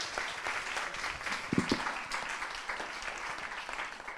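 A conference audience claps for a speaker after a talk on horizontal gene transfer, a moderate, fairly quiet round of applause with a few sharper individual claps standing out.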